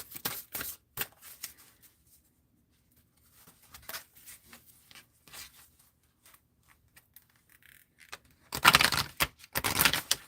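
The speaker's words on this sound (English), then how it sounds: "I just want to give this a little bit more of a shuffle." Oracle cards being shuffled by hand, with scattered soft riffling at first and a louder, dense burst of card riffling near the end, close and with no talk.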